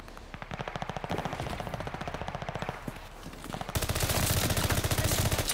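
A gun fires in sustained rapid automatic bursts in the shooter Call of Duty Vanguard, a steady rattling stream of shots that grows louder and denser toward the end.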